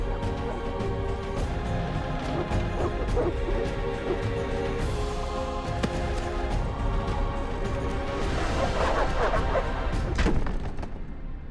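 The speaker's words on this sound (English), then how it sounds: "The dogs will tear her apart." Dogs barking and whimpering in The Witcher video game, set on the outskirts, with growls, yips and thuds layered into a dense, continuous game soundscape.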